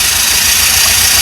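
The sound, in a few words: 1984 Pontiac Fiero engine running rough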